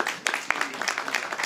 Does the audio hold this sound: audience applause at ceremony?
yes